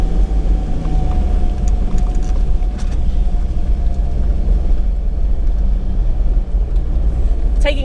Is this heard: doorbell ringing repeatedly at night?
no